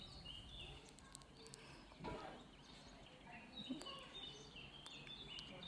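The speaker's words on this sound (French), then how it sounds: "Je ne sais pas si vous entendez les oiseaux." Small birds chirp and sing outdoors near a home, with scattered high tweets and short trills at moderate distance over a soft background, plus an occasional thump or rustle.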